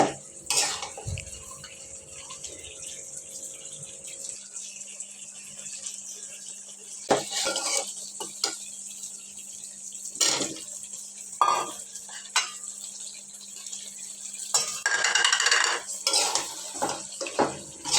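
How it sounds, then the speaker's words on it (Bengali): Duck curry with potatoes is stir-fried in a pot, with intermittent scraping and clanking of a spatula against metal over a low background sizzle. "আলু দিয়ে আবার একটু কষিয়ে নিতে হবে"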